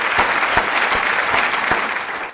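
Audience at an Ethiopian comedy show clapping steadily and loudly for over two seconds, a dense, even applause that trails off slightly at the end.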